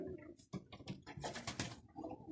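Pigeons coo softly nearby in a few low, throaty bursts, with light fluttering and rustling between the calls.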